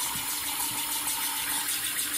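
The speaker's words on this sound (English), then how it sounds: "I'm making adjustments to the water until I get it exactly where I want it to be." Water running steadily from a bathroom faucet, a continuous close hiss and gush with slight variations in flow as it is adjusted.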